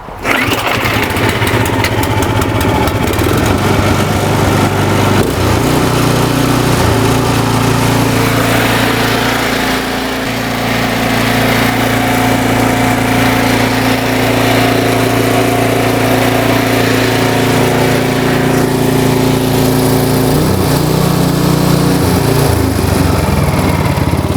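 Small 4-cycle engine machine running on TruFuel canned fuel after a Seafoam treatment, a loud, close, steady buzzing drone that holds an even pitch with only slight dips, and no talking over it.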